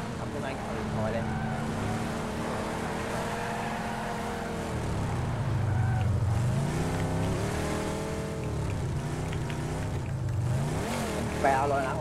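A car driven in the battle-royale video game PUBG, its engine droning and rising and falling in pitch as it accelerates and shifts, with voices talking over it throughout.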